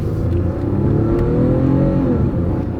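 A Toyota V6 engine in an older car revs up under throttle, a loud, close, steady growl that rises and falls smoothly while the vehicle pulls away.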